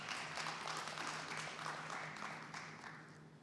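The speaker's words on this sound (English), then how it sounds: "If you don't mind, you should clap for that" An audience at a learner environment safety summit in Mbombela, Mpumalanga, claps steadily, a dense even patter that slowly fades, with a low steady hum underneath.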